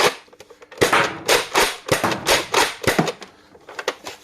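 A toy bullpup dart blaster fires three darts at close range, each shot a sharp snapping burst with mechanical clacking and cycling noises between, quick and irregular over a few seconds, no talking.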